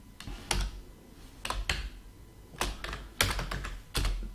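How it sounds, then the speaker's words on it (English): A computer keyboard is typed on while entering a tar command during setup of a Cisco Aironet 1850 access point, with a handful of short, sharp bursts of keystrokes separated by pauses, close and clear with no talking. "I had to type in"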